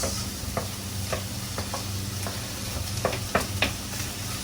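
Onion sautés in a pan for a beef and carrot dish, a continuous close sizzle with scattered ticks and taps of a spatula stirring through it, no talking.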